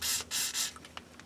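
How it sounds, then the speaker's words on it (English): Grease sprays in three quick hissing bursts onto a corroded rear shock absorber bolt on a Peugeot 307, close and loud, followed by faint tapping. "Since this bolt might be a bit corroded, it doesn't hurt to spray it with"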